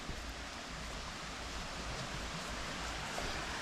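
A river flows below a campsite, its steady broadband rush continuous and even, moderately distant with no breaks and no voices over it.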